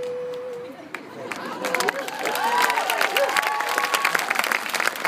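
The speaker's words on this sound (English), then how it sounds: "You guys are clapping way too long." Audience applause and clapping at a live comedy-music show, starting softly and swelling into sustained, loud clapping with scattered cheers and crowd noise, while a voice sings or speaks over the start.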